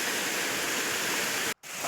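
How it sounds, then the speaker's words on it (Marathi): Water pouring from a rock ledge as a waterfall, a loud, steady broadband roar close by, briefly dropping out for a split second near the end before resuming; no voices. "आता ते पाणी पूर्ण असा वरून पडत आहे असा धबधब्याने"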